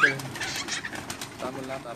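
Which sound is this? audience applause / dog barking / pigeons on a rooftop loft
pigeons on a rooftop loft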